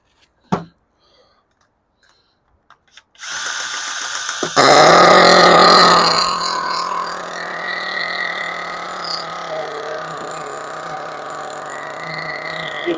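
Hobao Hyper SS nitro RC truggy engine starting up after a few clicks, bursting into a loud buzzing roar that peaks and then settles into a steady high-pitched idle.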